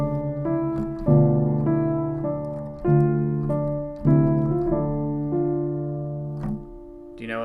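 A song from the Portal video game played on piano: sustained, ringing chords and melody notes struck at a slow, even pace, with fuller chords landing every second or so. The playing is clear and close, with no talking over it.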